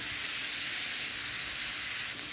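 Grated carrots sizzle in a hot pan as they are stirred while cooking for carrot halwa, a steady close hiss of frying with faint scraping, with no talk over it.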